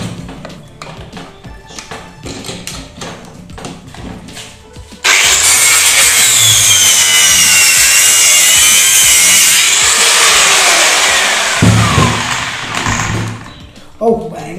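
An angle grinder cuts through a car TV, a harsh sustained screech that starts suddenly and runs for several seconds, loud and close, with scattered tapping and handling noises before and after.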